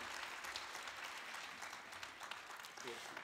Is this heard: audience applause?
yes